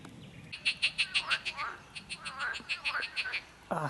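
Many frogs croaking at a pond in Hungary's Danube Bend, a rapid series of rasping pulses rising and falling in dense chorus, fairly close and alone with no talk.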